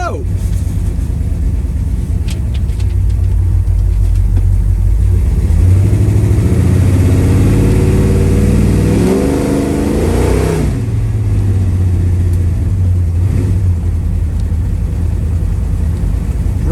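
A 1972 Chevrolet Chevelle 454 V8 with a B&M shifter revs and accelerates from inside the car, a loud, steady engine roar that rises in pitch midway and then settles back to a heavy drone.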